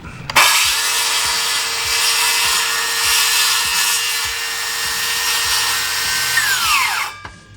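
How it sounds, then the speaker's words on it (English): A DeWalt circular saw rips through timber along a marked line, a loud, steady high-pitched whine lasting about seven seconds before the blade spins down and stops. "Some guys like to use the circular saw. This one just happens to be a DeWalt."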